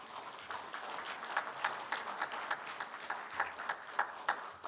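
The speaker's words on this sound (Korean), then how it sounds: "박수를 보내주시기 바랍니다" An audience at a book event applauds, giving a steady patter of many hands with a few louder individual claps rising above it, carrying on for several seconds without speech.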